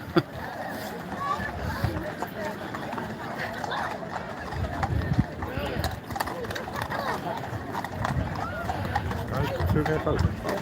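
Horse hooves clip-clop steadily on a hard surface amid people talking and general outdoor bustle.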